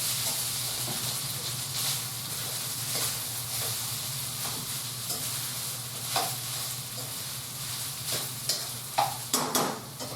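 Leftover rice being stirred into sizzling chicken chili in a hot pan, a continuous frying hiss with repeated scraping stir strokes that grow sharper and more frequent toward the end, no voices.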